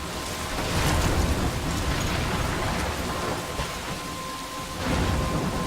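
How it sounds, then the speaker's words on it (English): Heavy rain pours steadily in a stormy scene from the game Life Is Strange, with dull rumbles of thunder rolling beneath the downpour and no voices. "I'm trapped in a storm?"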